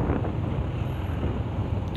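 Steady, loud wind buffeting a microphone on a motorbike ride through the Kathmandu Valley on a hot, windy day, a continuous low rumbling roar with no break and no voices.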